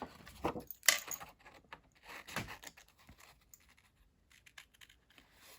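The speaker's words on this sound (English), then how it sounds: "Again, letting the scissors do the work." Scissors cutting paper during a leaf craft: soft, scratchy snips and rustles come in irregular bursts, quiet and close, with the strongest near the start before trailing off into faint scrapes.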